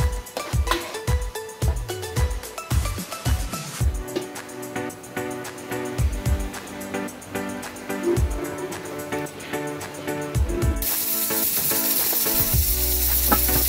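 Chopped mint frying in masala for a Marathi-style prawn biryani, a steady sizzle running alongside repeated clattering strikes of a spatula against the pan, then a louder, denser hiss near the end.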